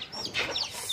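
Newly hatched desi chicks peep and a hen clucks on a poultry farm, a quick flurry of high chirps close by over a soft background.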